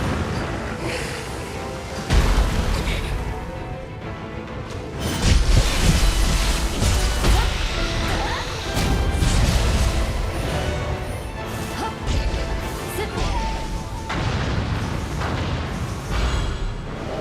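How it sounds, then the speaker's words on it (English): Explosions go off in the video game Nioh 3: heavy booming crashes at about two and five seconds rise over a continuous bed of clattering combat noise. "Interestingly enough, the explosion does work."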